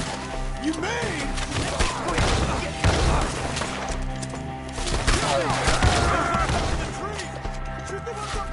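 Gunfire in a Red Dead Redemption 2 shootout: repeated sharp shots and impacts crackle in bursts, mixed with shouting voices and a steady musical score.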